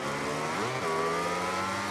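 MotoGP 19 motorbike engines revving at the race start at Assen for the Dutch GP, a sustained high whine that dips briefly and climbs again, loud and close, with a pack of bikes droning beneath.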